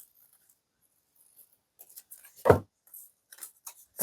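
Scissors make one crisp, close snip through craft material for an upcycled leopard print and roses glass candle holder, with a few faint rustles before and after in an otherwise quiet room.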